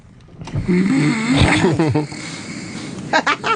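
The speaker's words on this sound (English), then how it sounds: "he recorded himself snoring" A man snores loudly and close up in a recording, his breaths rasping into a drawn-out, growling, voice-like groan that rises and falls, with a few sharper snorts near the end.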